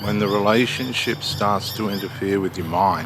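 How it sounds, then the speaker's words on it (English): Loud squawking calls of Australian birds ring out repeatedly in the background while a person talks over them. "You'll hear the Australian birds in the background"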